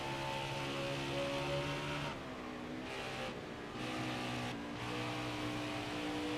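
A NASCAR race car engine at Dover in the NASCAR Heat 4 video game drones steadily at high revs with sustained tonal harmonics, with brief gear-shift dips around the middle.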